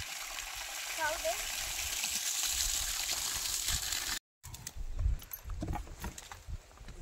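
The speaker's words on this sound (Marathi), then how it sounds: "चला झाडांना पाणी घालून झालंय" A garden hose sprays water onto plants in a steady broadband hiss for about four seconds, then after a brief gap gives way to scattered handling noises and some nearby voices.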